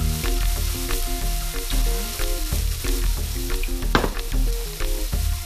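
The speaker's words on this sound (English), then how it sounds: "I got my onion in, sauteing. I'm going to add a little olive oil in mine" Chopped onion sautés in olive oil in a pan for baked ziti, a bright steady sizzle running under music throughout.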